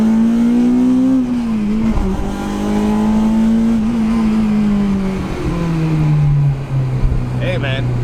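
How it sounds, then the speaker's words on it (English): A Honda Civic EP3 Type R fitted with Brembo brakes pulls hard through the gears, its engine note rising and then falling as it slows under heavy braking, heard from inside the car. "we'll get a rip, and we'll see how this thing brakes at higher speeds"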